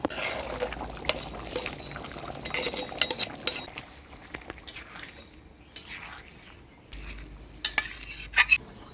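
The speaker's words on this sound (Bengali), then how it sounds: "এবার ভাজে রাখা চিংড়ি মাছগুলো দিয়ে দেব।" Fried prawns going into a pot of pointed gourd curry, with soft clinks of a metal spoon against the pot, light stirring and wet scraping, fairly quiet and close, with no talking.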